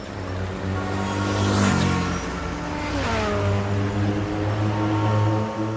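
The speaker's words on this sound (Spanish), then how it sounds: "Y esto es el sonido de las motocicletas que circulan por la ciudad." Motorcycles move through Mexico City traffic, engines droning and revving up with rising pitch as they pass close by, loud and continuous over a steady urban rumble.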